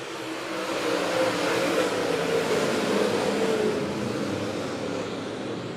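Race cars accelerate out of turn four at Monett Motor Speedway, a continuous distant roar of engines that builds, holds for a few seconds and then slowly eases, with no talking heard.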